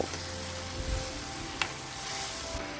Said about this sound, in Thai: แล้วก็พัดต่อจนหมูสุกนะเจ้า